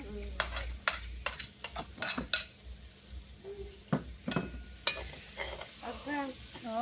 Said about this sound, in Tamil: கறி மிளகாய் வதங்கி கொண்டு இருக்கு